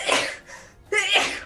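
A person sneezes twice in quick succession during a tabletop game session, two sharp, close, breathy bursts separated by a brief pause, with no talk.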